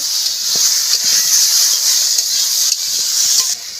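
Spices and ginger sizzle steadily in hot oil while cauliflower curry fries, a loud continuous hiss with faint stirring clicks underneath and no talking.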